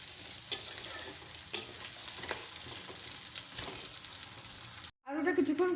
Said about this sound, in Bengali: আলুটা এবার মশলার সাথে কষিয়ে নেব।